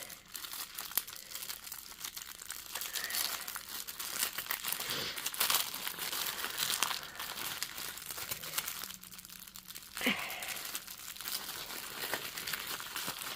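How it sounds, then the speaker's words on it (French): Crinkly plastic packaging of a cross-stitch kit holding bead bags is handled and opened, giving steady rustling and crumpling with a few sharper tearing bursts, close and fairly loud with no talking. "je veux l'ouvrir, mais pas ouvrir par mégarde les sacs de perles en même temps"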